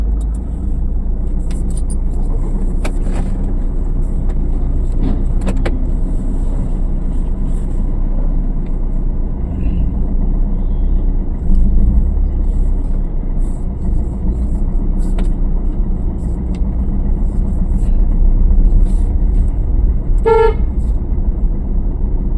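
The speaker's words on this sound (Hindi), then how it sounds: "क्लच के द्वारा गाड़ी बढ़ाएं आप अपनी" A car moves off during a driving lesson, its clutch engaged as the engine rumbles steadily and close throughout, with a short horn toot sounding near the end.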